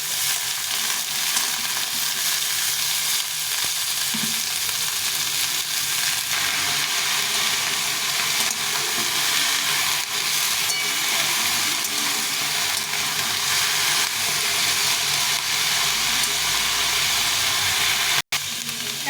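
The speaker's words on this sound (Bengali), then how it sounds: "সবগুলো সবজি দিয়ে দেবো এইভাবে দিয়ে এটাকে ভালো করে একটু মেরে কেড়ে ভেজে নিতে হবে" Vegetables fry in a pan with a continuous dense sizzling hiss that stays loud and even for the whole stretch, without talk, ending in a brief sharp tap.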